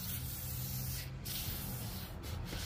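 WD-40 sprayed onto old chrome in a workshop, a steady close hiss lasting a few seconds with faint rubbing beneath.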